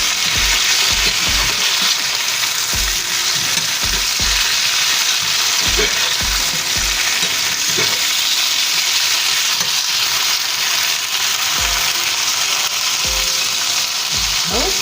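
Sliced potatoes, seasoned Southern style, fry with a steady loud sizzle in a pan, while a spatula repeatedly scrapes under and flips them, making regular soft knocks and scrapes.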